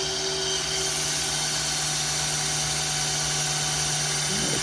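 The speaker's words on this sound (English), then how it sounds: "I'm going to bump the drill up to the high speed" A power drill spins at high speed to prime the stock oil pump of a 1971 Dodge Demon's 273/318 engine, giving a loud, steady whine with a sustained tone and no voices.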